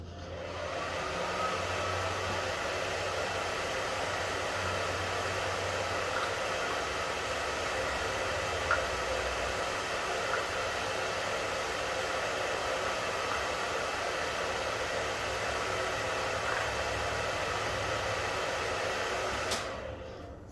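A hair dryer runs continuously at close range, a steady loud whooshing hiss without pauses for about twenty seconds.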